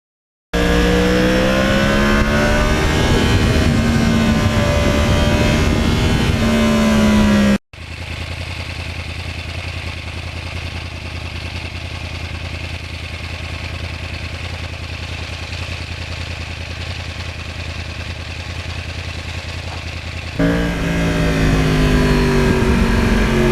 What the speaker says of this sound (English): I never get sick of hearing that Crossplane motor, especially you bring up the RPM and back it off in a corner